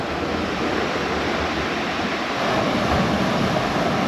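Ocean waves breaking steadily on a small, steep beach at Praia do Sorocotuba in Guarujá, a continuous broad roar of surf with no voices.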